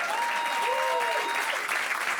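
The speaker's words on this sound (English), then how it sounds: "Come on, give her a big round of applause." Audience applause at a stage magic show as a woman volunteer is welcomed up, thick continuous clapping from the crowd, loud and close, lasting a couple of seconds.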